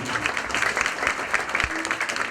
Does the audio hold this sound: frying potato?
no